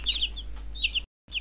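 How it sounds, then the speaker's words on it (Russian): A small fluffy yellow chick cheeps in short high bursts, two close chirping runs followed by a brief silence and another cheep at the end. "Желтый маленький комочек что-то клювиком лопочет"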